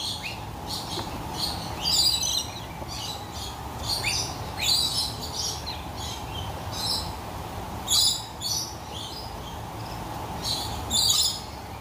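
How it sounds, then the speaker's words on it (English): Birds chirping in a zoo's bird habitat, repeated bright tweets and short calls in bursts every second or two over a soft background hum, fairly close and moderately loud. "I do love the sounds of birds though."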